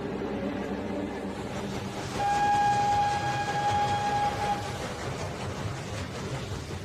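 A train rolls along rails with a continuous low rumble and clatter, a long steady whistle sounding through the middle, heard without voices.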